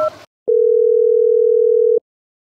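A single long, steady phone tone rings out for about a second and a half after the number to a father is dialed, with brief faint noise before and after it and no talking.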